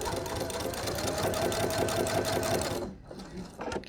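Sewing machine stitching steadily around the edge of fabric, a fast even mechanical whir running loud and continuous for nearly three seconds, then stopping, followed by faint handling sounds.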